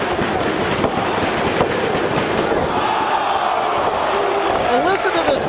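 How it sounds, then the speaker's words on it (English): A wrestling arena crowd cheers and roars loudly and continuously, a dense wall of voices with shouts rising over it, close and sustained from start to finish. "And listen to this crowd. This crowd is solidly behind Jimmy Jacobs."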